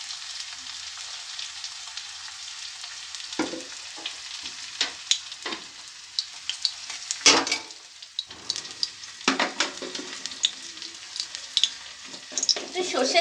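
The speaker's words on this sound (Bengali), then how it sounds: "তো চলো পেঁয়াজটাকে একটু লাল লাল করে ভেজে নিই।" Onions frying in mustard oil in a hot kadai for a methi greens dish: soft sizzling with intermittent stirring scrapes and clatters, fairly quiet and close, no talking.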